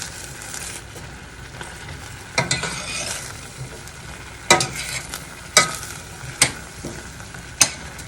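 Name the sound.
stirring carrots in a pan as sherry evaporates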